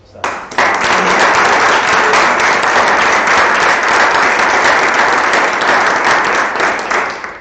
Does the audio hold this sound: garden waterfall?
no